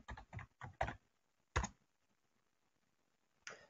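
Login username and password typed on a computer keyboard, a quick burst of close key clicks followed by a pause, a single sharp keystroke and one last click, with no talking.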